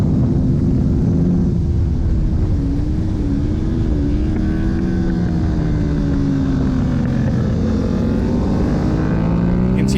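Racing motorcycles on the track at Hallett, a loud, close engine drone with shifting pitch as the rider exits turn 1 and tucks in behind other bikes, sustained throughout.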